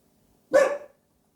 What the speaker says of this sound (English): I warned you about the dachshund.